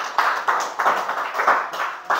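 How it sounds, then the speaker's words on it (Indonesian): A classroom group claps for a presenting student team at a vocational high school, producing a steady series of rhythmic claps at roughly even intervals, near and fairly loud. "tepuk tangan pada kelompok 2."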